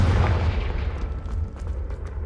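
Spell blasts from Confringo and Expelliarmus in Hogwarts Legacy: a loud, booming explosive burst up front that rumbles and fades, followed by smaller crackling pops.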